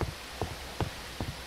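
A gas trap in Minecraft Eternal gives off four faint, evenly spaced soft bursts against a steady hiss, each about 0.4 seconds apart.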